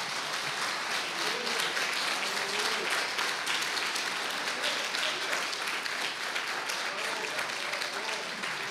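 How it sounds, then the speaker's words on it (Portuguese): Sustained congregational applause during a church sermon, a dense, even wash of many hands clapping for several seconds with faint voices underneath. "Aplauda ao Senhor em nome de Jesus"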